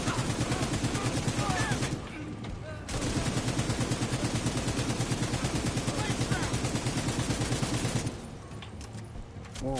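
Sawed-off shotgun fire in the video game The Division 2, dense rapid bursts of loud gunfire nearly continuous for most of the stretch, with two short lulls, mixed among other game combat noise.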